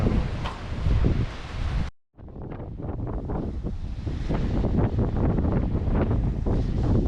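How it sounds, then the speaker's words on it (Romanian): Strong wind on a Calabrian seaside buffets the microphone in loud rumbling gusts, with a brief sudden drop near two seconds before the roar returns, surf-like noise churning beneath throughout. "Foarte mult vânt."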